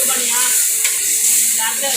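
Mashed roasted eggplant bharta stirred and mixed in a hot pan, giving a steady close sizzling hiss with soft scraping throughout.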